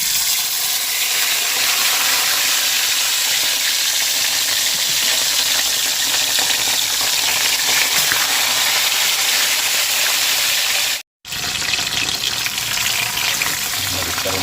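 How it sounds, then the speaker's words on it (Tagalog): Tilapia fish sizzles in hot cooking oil in a pan, a loud, dense, continuous crackle that holds steady, with one brief cut near the end. "Mga kabayan, na mainit na yung ating mantika, prito na tayo ng ating isda."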